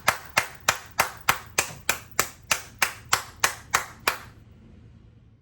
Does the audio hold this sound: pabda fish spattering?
no